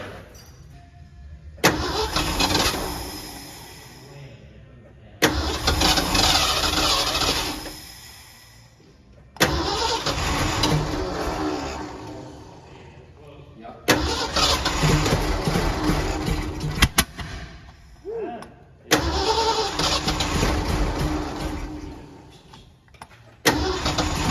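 A 1979 Ford L-600 service truck, a barn find with oil in its cylinders, cranks for its first start in 17 years: five loud, close bursts of starter grinding and engine churning, separated by short pauses.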